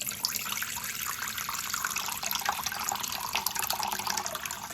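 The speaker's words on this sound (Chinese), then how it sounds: "接下来我们准备一锅水" Water running from a tap into a cooking pot, a steady, loud rushing splash that holds evenly throughout without talking.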